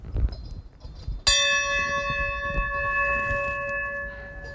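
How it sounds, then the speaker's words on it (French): A church bell strikes once, loud and clear, then its bright ringing tone hangs and slowly fades over low outdoor background noise and footsteps. "Cloche."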